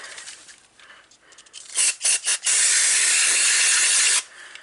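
Brake cleaner sprays into a car throttle body on a 2016 Nissan Versa, first as a few short aerosol bursts and then as a long, loud, steady hiss that cuts off abruptly.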